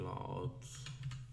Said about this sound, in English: So for that, type in CloudFront.